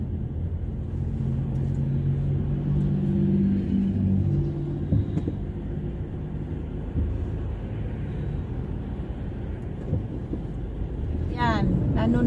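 Heavy street traffic near a mall, a constant low rumble of passing cars and engines with wind buffeting the microphone and a voice talking briefly near the end.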